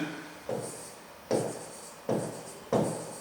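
A pen scratches across paper in four short strokes during a fifth-grade math exercise, quiet and close, with brief pauses between each written burst.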